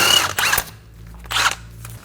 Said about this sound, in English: Using a 19mm socket, remove the nut for the tie rod end.